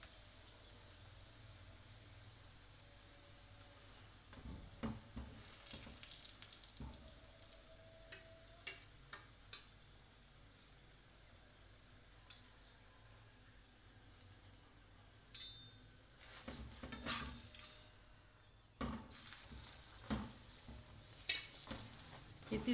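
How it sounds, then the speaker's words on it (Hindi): Keema-stuffed paratha frying on a pan, a faint, low sizzle running through with occasional spatula clicks and scrapes as it is flipped, close but quiet, no speech. "एक तरफ से होने के बाद फिर हम इसको दूसरी तरफ से फ्राई करेंगे।"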